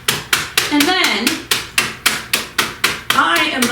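Oreo cookies crushed with the side of a spoon, about a dozen sharp, evenly spaced chopping knocks in a steady rhythm, close and loud, with someone talking between them.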